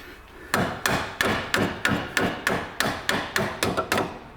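A hammer drives a bolt into a Land Rover Freelander wishbone with about a dozen evenly spaced, sharp metallic taps in a steady rhythm, close by and with no talk.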